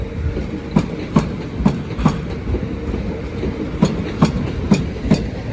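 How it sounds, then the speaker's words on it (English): A Class 395 train rolls past a level crossing at Deal, bound for Ramsgate, its wheels beating a steady, regular clickety-clack over the rail joints under a continuous rumble, fairly close and moderately loud. "395 Ben Ainsley to Ramsgate"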